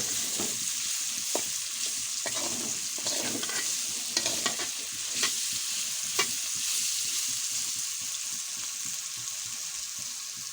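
Vegetable bhaji frying in oil in a pan, a continuous close sizzle with intermittent clicks and scrapes of a spatula stirring, no talking.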